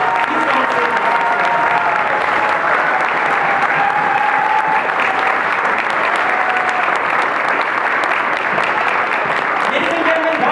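Loud, sustained audience applause fills a room, continuous dense clapping with some crowd voices and faint speech mixed underneath.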